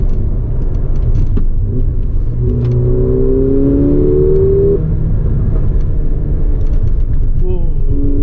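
A 2019 Mercedes-AMG GLA 45 pulls hard from inside the cabin, a loud steady rumble with engine notes rising through a gear before easing, and a second climb near the end.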